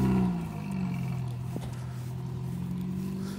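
Triumph Spitfire classic sports car engine idling and running at a classic car show in Angus, Scotland, a steady low rumble heard nearby throughout with no talk.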